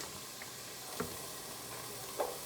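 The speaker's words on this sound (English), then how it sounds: "I'm just kind of sauteing everything, trying to get the vegetables softened." Vegetables for a chicken noodle soup saute in a pot, a faint steady sizzle with a couple of soft clicks from stirring, no one speaking.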